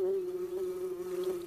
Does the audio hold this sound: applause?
no